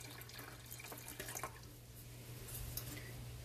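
Water poured into a pan around a glass jar of milk until half the jar is covered, a faint steady trickle over a low hum, heard without speech.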